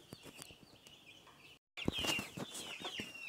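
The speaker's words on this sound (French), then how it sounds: "je me suis déplacé dans le poulailler dans lequel je fais le chauffage" Broiler chicks and chickens cluck and chirp inside a heated coop, with soft, scattered calls throughout and a brief silent gap partway through.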